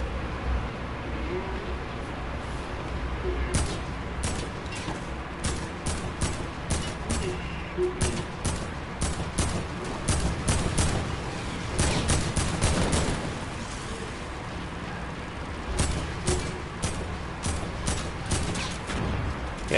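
Fortnite gunfire comes in scattered bursts of sharp shots, some quick clusters and some single cracks, over a steady game backdrop, with occasional speech.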